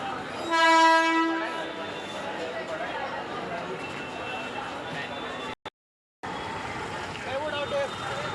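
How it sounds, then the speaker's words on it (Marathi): A train sounds its horn in one loud, sustained blast at Ghatkopar railway station in Mumbai, followed by the rumble and clatter of rail cars and station bustle, with a person talking nearby. "हे आहे घाटकोपर स्टेशन"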